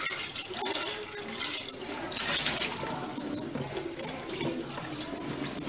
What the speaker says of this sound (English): wash off the bubbles off one by one or so.